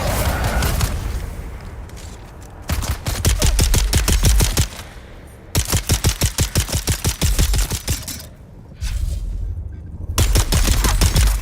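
Rapid automatic gunfire in Dune Awakening, loud close bursts of dense shots in several long volleys separated by brief pauses, with no talk over it.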